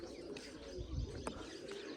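Pigeons coo and chirp softly at close range in a short burst, with a low throaty coo rising midway amid faint background ambience.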